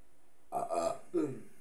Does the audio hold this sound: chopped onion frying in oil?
no